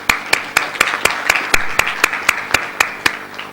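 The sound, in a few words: audience applause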